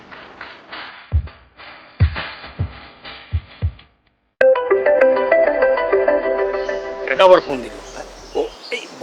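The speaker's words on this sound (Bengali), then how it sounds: "ফোন দিছে" A phone rings in a Bengali TV drama scene, a steady repeating electronic ringtone that follows a stretch of talk and a short silence, with voices resuming near the end.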